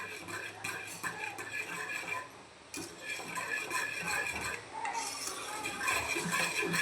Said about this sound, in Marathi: असं आपण हलवत राहायचं